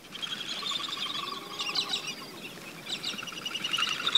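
Galah cockatoos and crested pigeons in the Australian bush give repeated high, raspy calls and chirps in overlapping bursts. The calls are moderately close over a quiet background.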